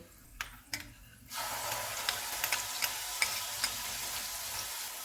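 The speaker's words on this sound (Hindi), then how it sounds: "अदरक और लहसुन का पेस्ट डालेंगे।" A couple of utensil taps, then a sudden loud hiss as ginger garlic paste hits hot oil, settling into steady sizzling with occasional stirring clicks.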